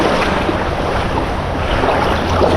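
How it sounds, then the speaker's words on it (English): Water rushes and splashes at a saltwater fishing spot where shoes are being rinsed clean, a close, loud, continuous wash with gusty noise over it and no talking. "Perfect flowing water."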